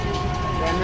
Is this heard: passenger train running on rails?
yes